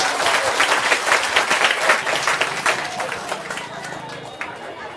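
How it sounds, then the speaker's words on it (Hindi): A crowd at an outdoor political public meeting with Prashant Kishor in a village panchayat camp claps loudly and steadily for several seconds, the applause thinning slightly toward the end. "एक बार हुनका ले अहाँ सब जोरदार ताली बजाबे, सब आदमी जोरदार ताली।"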